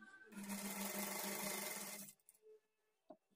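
A sewing machine stitches a blouse, whirring loud and fast with a steady even rhythm for about two seconds before stopping, then a few soft clicks and handling noises follow.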